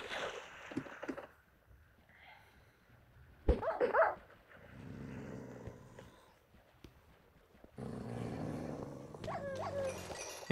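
Several dogs bark in a video game set in a mansion, in short, loud bursts over a busy mix of game music and effects.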